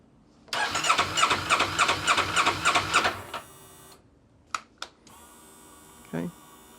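Motorcycle engine cranking after a new battery is fitted: about three seconds of rapid, rhythmic starter churning up close, then it cuts off, followed by a few short clicks and a brief burst near the end.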